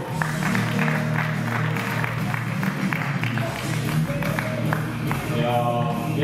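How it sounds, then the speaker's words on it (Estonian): An audience applauds at an arm-wrestling championship final, a dense, steady patter of clapping with a few voices murmuring underneath. "Aplaus."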